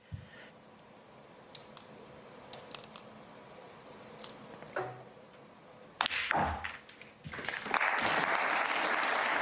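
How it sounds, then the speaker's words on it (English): Applause breaks out in the arena at a Scottish Open snooker final after a frame ball. Scattered clicks and knocks come first in a quiet hall, then clapping surges in the last few seconds and builds louder. "Applause for frame ball."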